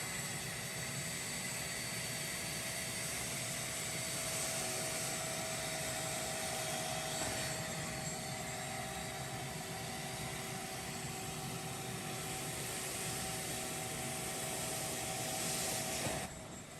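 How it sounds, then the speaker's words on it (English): A vacuum runs steadily on a couch being cleaned, a continuous even motor drone with a faint high whine that holds for the whole stretch, alone with no voices. "then I'll turn on the vacuum"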